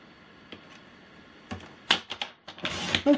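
Paper being cut for a handmade mini album, a quiet start followed by a series of crisp, close snipping and trimming sounds in quick uneven bursts, growing denser toward the end.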